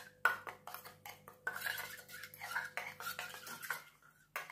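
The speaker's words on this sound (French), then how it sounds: "Voilà, je touille." A small spoon stirs an olive oil mixture in a little bowl, giving a string of light, close clinks and scrapes of metal against the dish with short pauses between them.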